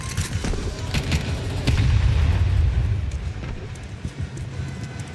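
An HE grenade explodes in a Counter-Strike match, a heavy low boom that swells and rumbles amid scattered gunfire and crackling game noise.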